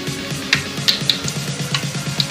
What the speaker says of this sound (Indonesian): lalu kita tuang lagi adonannya, kita goreng.